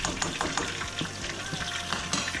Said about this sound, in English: So while we're allowing the sauce to boil before we add our sugar